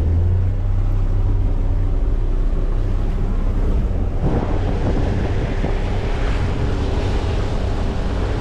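A boat moves along the Waikato river, giving a constant loud rush of engine, water and wind buffeting against the microphone. The noise holds steady throughout and roughens slightly midway, with no talk heard.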